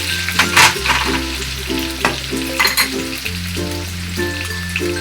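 Onion tipped into hot oil sizzles steadily, with bursts of stirring and scraping on top and sustained tonal sounds running underneath.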